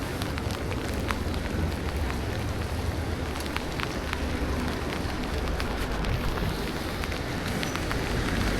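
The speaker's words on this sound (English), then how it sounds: "Yes, it is raining, but it's like a light drizzle, nothing too crazy." Steady, soft hiss of light rain falling, with faint scattered droplet ticks throughout and no voices.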